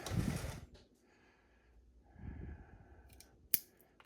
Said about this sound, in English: Let's give those a little trim.